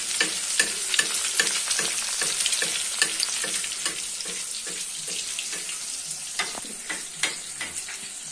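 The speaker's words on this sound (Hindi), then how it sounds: "ये देखिए दूसरा अंडा हमारा कितना अच्छा फ्राई हो रहा है" An egg fries on a hot tawa with a loud, steady crackling sizzle, dotted with light scraping ticks throughout.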